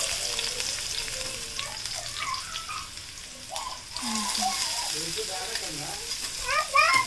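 Chopped onions sizzling in hot oil in a bowl, a steady crackling fry under moderate background noise, with birds or chirpy sounds and faint voices nearby.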